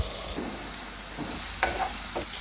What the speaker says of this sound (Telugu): ఆయిల్ వేడిగా అయ్యాక కొంచెం ఉల్లిపాయలు వేయాలి.